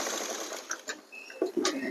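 A sewing machine stitches fabric during a tailoring lesson, whirring steadily for over a second before breaking into a few short, close bursts.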